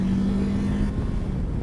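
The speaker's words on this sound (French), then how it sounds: "on envoie tranquillement jusqu'à la zone rouge" Kawasaki KLE 500 SE motorcycle engine revving up toward the redline, a close, loud, steady drone that shifts in pitch partway through the short burst, with no talk.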